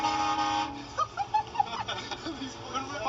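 A car fitted with a train horn blasts a loud, sustained chord that cuts off after less than a second, then people talk and laugh nearby.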